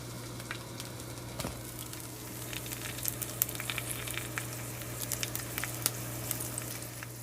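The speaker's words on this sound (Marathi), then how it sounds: "आता ह्या पुरणपोळीवर परत मी असं तूप सोडते." Ghee sizzles on a puran poli in a pan, a quiet, crackling patter of tiny pops spread across the moment over a low steady hum, with no talking.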